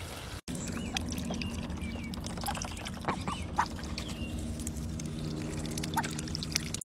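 Water poured into a small tray for domestic ducks, a steady trickling splash that runs throughout, close by, with scattered duck quacks and dabbling noises over it and a brief break near the start.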